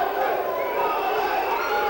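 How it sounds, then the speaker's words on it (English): Teammates shout and cheer for an American boxer during an amateur USA versus Italy bout in Pesaro, a dense, continuous wall of crowd voices close by. "You hear Austin's teammates cheering him on."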